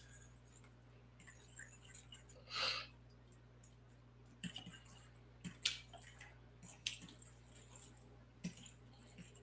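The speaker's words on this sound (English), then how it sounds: "let's take that fork and stir it all up nicely" A fork stirring raw eggs and sausage in a bowl for an omelet, faint clinks and wet squishing scrapes in irregular bursts over a quiet background hum.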